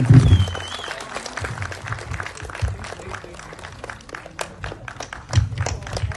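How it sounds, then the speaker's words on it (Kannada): An audience applauds at the title launch of a Kannada film, the 50th movie of actor Loose Mada Yogi, titled King. Scattered claps run steadily for about six seconds over a low crowd rumble, with a louder burst near the end. "ನಿಮ್ಮೆಲ್ಲರ ಚಪ್ಪಾಳೆಯೊಂದಿಗೆ ಇದೀಗ ಅನಾವರಣಗೊಳ್ತಾ ಇದೆ ನಮ್ಮ ಲೂಸ್ ಮಾದ ಯೋಗಿ ಅವರ 50ನೇ ಸಿನಿಮಾದ ಟೈಟಲ್"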